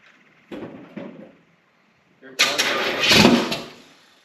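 Engine of a '70 Chevrolet Nova cranking in two short bursts, then catching and roaring loudly into a rising rev before settling, heard close up.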